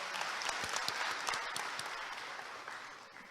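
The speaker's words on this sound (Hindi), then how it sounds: "माननीय मुख्यमंत्री जी का धन्यवाद स्वरूप जोरदार तालियों से अभिनंदन" Crowd applause at a government loan-distribution event with the Chief Minister, a dense patter of many hands, moderately distant, gradually fading over a few seconds.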